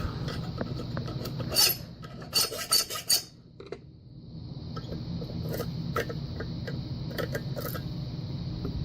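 A hand file rasps across a metal key blank in short, uneven bursts of scraping strokes, close and clear, with a few quieter pauses and light metallic clicks between passes.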